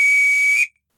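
A single sustained high whistle, a bosun's call in an audio drama, sounds loud and steady for about half a second before cutting off into silence.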